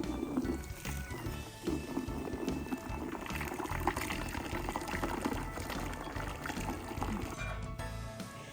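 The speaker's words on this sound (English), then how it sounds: "top off the bucket to about an inch from the top with more hot tap water" Hot tap water runs into a laundry bucket in a steady, moderately quiet rushing stream that lasts the whole time, with faint sloshing and no voices.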